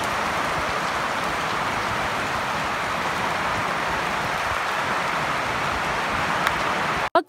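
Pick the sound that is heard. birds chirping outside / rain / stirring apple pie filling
rain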